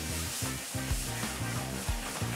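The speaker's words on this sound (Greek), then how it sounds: "Ρίχνω μέσα στο κρασί." Red wine poured onto a leg of lamb frying in a pan, giving a loud, steady sizzle and hiss throughout, with low, uneven sputtering bubbles underneath and no talk.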